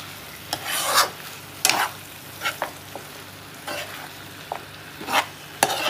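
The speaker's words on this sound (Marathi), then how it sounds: "बरें मिक्स अप करपाचें हितून आतां बरें ढवळपाचें" A spice paste for Goan chicken chilli being stirred in a pan, with about a dozen distinct rasping scrapes of the spoon in an uneven rhythm over a quiet sizzle, and no talking.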